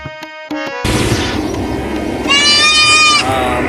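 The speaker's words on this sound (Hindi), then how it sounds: "ये सही बकरा मंडी का माहौल है" Goats bleating in a busy goat market, a few short calls early, then one long, loud wavering bleat close by over a constant crowd din.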